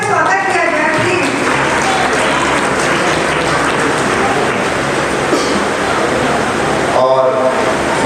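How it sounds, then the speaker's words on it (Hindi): An audience at a Jain religious discourse and cultural program claps to welcome a prize winner, producing a loud, continuous broadband roar of applause with brief voices at the start and near the end. "प्लीज तालियों से इनका स्वागत किया जाए प्लीज।"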